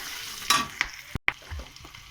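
Short burst of garlic and green chillies sizzling in a hot wok, with a few sharp metallic clicks and scrapes, close and fairly quiet.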